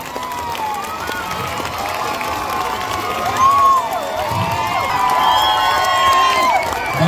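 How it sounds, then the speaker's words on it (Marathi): Loud, sustained clapping and cheering from a crowd honouring a teacher at an academy's 15th August celebration in Sangli, with whoops and shouts swelling in waves over the steady applause. "लाऊडली क्लॅप फॉर माई मॅडम"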